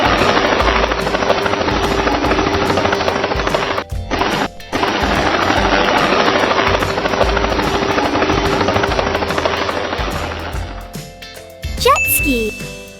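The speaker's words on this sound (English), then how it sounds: "Helicopter." A helicopter flies close and loud, its steady rotor chop holding for about eleven seconds, then fading into a brief bright chime at the end.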